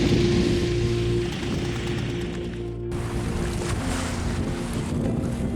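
Strong wind buffeting the microphone aboard a sailboat under way, a steady broadband roar with rigging clicks and ratcheting creaks throughout.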